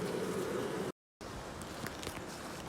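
Honey bees swarming at a hive in an apiary hum in a dense continuous buzz, steady and close, broken once by a short gap of silence before resuming.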